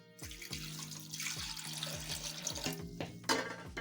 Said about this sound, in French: Et de l'eau.